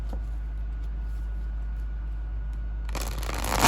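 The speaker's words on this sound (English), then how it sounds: "Oh my gosh, I cannot shuffle." A low steady hum, then a short, sharp riffle of playing cards being shuffled near the end, close by.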